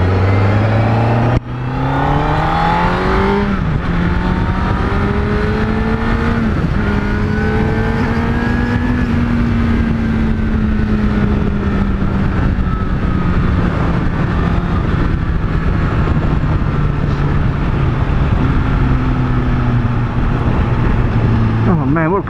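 Honda CBR1000RR Fireblade motorcycle accelerating hard on a fast ride, engine pitch climbing through gears with brief shift dips, loud and close with wind roar, a rider talking over it.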